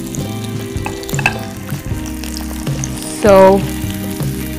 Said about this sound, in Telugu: పచ్చిగా ఉన్న పీసెస్ అన్నీ కూడా డైరెక్ట్గా ఫ్రై చేస్తున్నాం